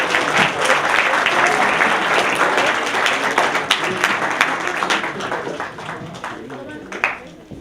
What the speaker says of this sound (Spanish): Brindémosle nuevamente un fuerte aplauso.